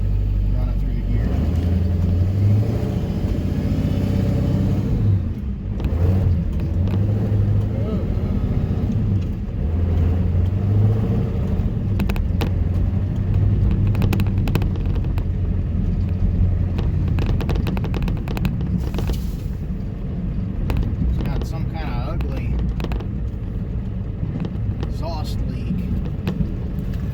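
Old donor truck grinding along in low range and working up through the gears, a heavy low engine rumble that surges and drops throughout, with a person talking over it.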